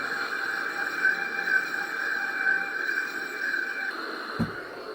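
Ultrasabers Apprentice V5 lightsaber in lockup, a steady electric hum with a crackling, buzzing sizzle held for several seconds at even loudness, ending with a brief sharp click.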